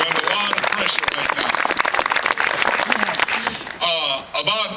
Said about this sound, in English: How about a round of applause for our Postal Service?